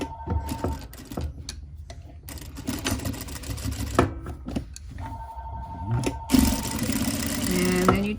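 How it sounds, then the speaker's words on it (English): A sewing machine stitches a headband onto a scrub cap in bursts of mechanical whirring, pausing between runs and then running steadily toward the end, close and moderately loud. "Now you're going to sew the headband in."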